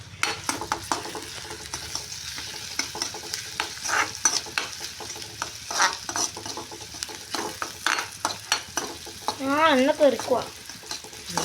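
Mushroom curry frying in a pan while a spoon scrapes and stirs it, producing repeated rhythmic scraping strokes and clinks over a low sizzle, with a short whistling tone near the end.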